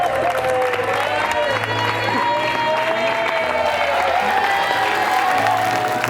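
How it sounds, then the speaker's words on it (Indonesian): A studio audience on the Indonesian dating show Take Me Out Indonesia claps and cheers under a loud stage music bed, with steady crowd noise throughout. "Boleh berikan tepuk tangan buat Fion."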